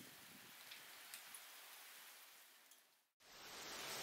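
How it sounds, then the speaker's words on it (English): Steady rain falls in a soft, even hiss that runs unbroken for a few seconds, drops out to a brief silence, then resumes just as steadily. "Oh, it's raining."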